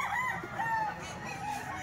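Rooster crowing with chickens clucking around it on a Filipino poultry farm, several overlapping rising calls and steady clucks against a busy, fairly close yard background.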